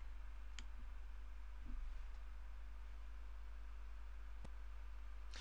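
A few sharp, isolated computer mouse clicks over a steady low hum and hiss, spaced seconds apart, quiet and close.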